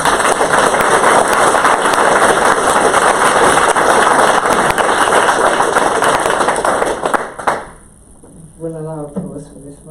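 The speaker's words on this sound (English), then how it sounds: "We'll allow applause for this one." Loud, sustained applause from the gallery at a council meeting, dense clapping that lasts about seven seconds before fading out and giving way to a speaking voice.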